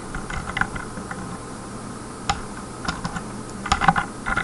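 Rapid clicking of computer keys while typing code, with brief pauses and a denser burst of keystrokes near the end; close and fairly quiet, no voices.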